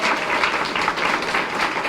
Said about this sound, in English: a round of applause for Mary as well